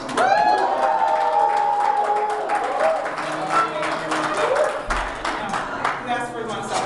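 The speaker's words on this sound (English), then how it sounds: "Come on, let's applaud really loud." Loud crowd applause with cheering and voices at a Business After Hours chamber of commerce gathering, continuous clapping mixed with shouts throughout.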